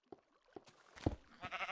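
A sheep bleats in Minecraft Alpha 1.0.4, a short wavering bleat near the end, preceded by a few soft game taps and thumps. The whole clip is quiet.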